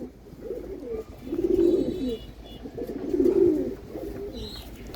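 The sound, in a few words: domestic pigeons cooing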